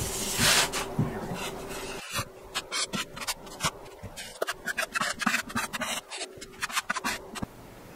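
Close, uneven scratching and rasping strokes of hand-sanding drywall in a yurt bedroom, in short bursts with brief pauses between them.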